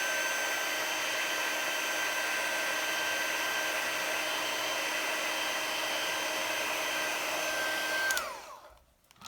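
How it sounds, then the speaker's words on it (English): A heat tool blows hot air onto a handmade card with a steady, loud whooshing hum, then winds down and cuts off near the end, with no speech. "hit that with a heat tool"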